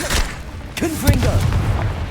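Confringo fire spell blasting in Hogwarts Legacy, a booming burst with a thudding low impact and crackle, heard near and loud, with a voice speaking briefly alongside.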